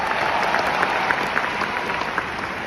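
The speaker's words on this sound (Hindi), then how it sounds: "एक बार जोरदार तालियां।" An audience at a sales team's success-day event breaks into loud, continuous applause, a dense even wash of many hands clapping with no speech over it.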